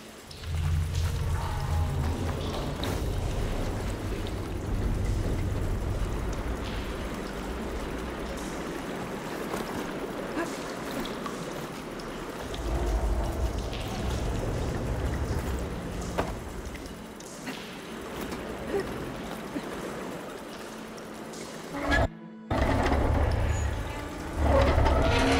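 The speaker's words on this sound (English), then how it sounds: "Aloy, I can hear water in the room again." Running water circulates through a room in the video game Horizon Forbidden West after a valve is opened, a soft continuous rushing and trickling with a low rumble, briefly cutting out near the end.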